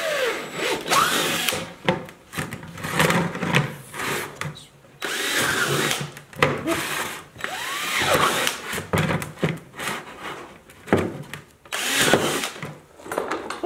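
A power drill whirs in repeated bursts, revving up and stopping, with grinding through material between short pauses.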